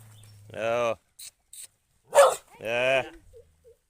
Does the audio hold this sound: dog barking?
yes